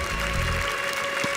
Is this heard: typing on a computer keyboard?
no